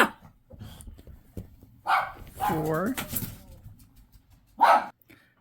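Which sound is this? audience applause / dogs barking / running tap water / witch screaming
dogs barking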